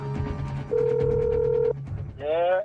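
A telephone rings as a call is placed: a steady ringback tone holds for about a second, then a warbling electronic ring sounds briefly, over a faint low background hum.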